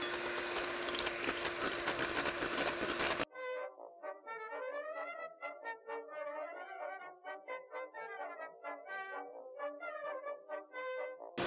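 An electric mixer whips meringue while sugar goes in a little at a time, giving a loud, steady whirring for about three seconds before it cuts off and a voice takes over.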